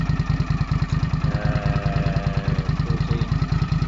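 A Silverwing motor scooter engine runs steadily on winter roads in Kefalonia, a close, regular low thrumming pulse with mechanical clatter and no voices.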